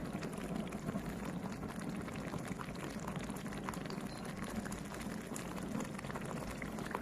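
Thick coconut cream from chicken boiled earlier bubbles steadily in a pot of Thai chicken and bamboo shoot curry as more is added bit by bit, giving a dense, continuous simmer with soft liquid gurgles.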